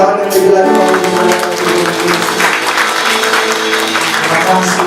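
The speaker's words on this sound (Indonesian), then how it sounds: "Dan sama-sama kasih tepuk tangan yang lebih lagi bagi Tuhan." A church congregation at a Christmas Sunday service claps together, the applause sitting beneath sustained music and voices and holding at a fairly even level for several seconds.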